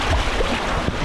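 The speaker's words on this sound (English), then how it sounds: "bit of some waves behind me there" Waves wash in behind a swimmer at the Baths in the British Virgin Islands, a short burst of churning surf and splashing water under strong wind noise, close and loud, with no voices.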